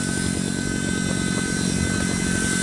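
Continuous, even buzzing whine of a remote-control helicopter in flight outdoors, loud and close throughout the short span, with no voices over it.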